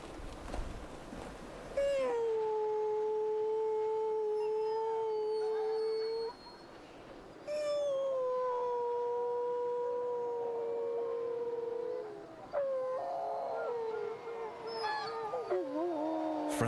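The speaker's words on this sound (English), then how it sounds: "You want to see if we can get the dogs howling" Husky sled dogs give long, sustained howls in overlapping waves, with a few tones holding steady before they break off and a brief pause between bursts. The howling is moderately distant and quiet.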